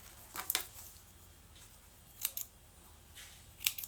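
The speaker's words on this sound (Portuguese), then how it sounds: "Corta o excesso e queima." Scissors snip off excess zipper thread during a sewing session for a document holder, three quick crisp cutting bursts spaced apart, close and moderately loud over a quiet room.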